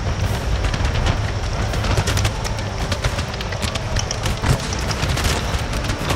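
Cannon and musket volleys in an Empire: Total War battle: a dense, continuous barrage of booming blasts and crackling gunfire, steady and loud throughout with no pauses.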